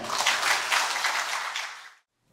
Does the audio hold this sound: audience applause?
yes